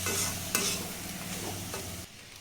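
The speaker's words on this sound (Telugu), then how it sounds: "రైస్ వేసుకున్న తర్వాత ఈ టమాటా గుజ్జు అంతా ఈ రైస్కి పట్టేటట్టు ఇలా బాగా కలుపుకోవాలి" Tomato rice being stirred in a pan, rice folded through tomato pulp: continuous close scraping and mixing with a gentle sizzle, a couple of sharper spoon strokes, ending abruptly, no voices.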